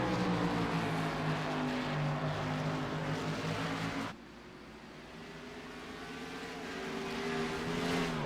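Stock cars racing at Watkins Glen in an iRacing NASCAR game, a steady loud engine drone that drops sharply partway through, then swells again as another car approaches, with no talk.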